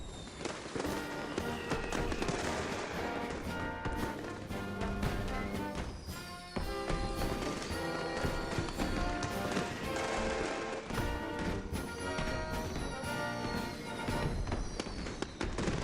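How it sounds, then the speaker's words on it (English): Fireworks set off nearby on the Fourth of July in Seward, Alaska: a dense run of sharp cracks, pops and crackling bursts, some overlapping, continuing loudly for the whole stretch with a faint voice at times. "a gentleman down here has been shooting some off"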